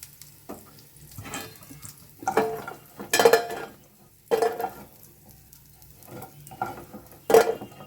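Lentil dumplings (bori) frying in oil, a soft continuous sizzle punctuated by several louder clattering stirs and scrapes of a utensil in the pan, close by and with no voices.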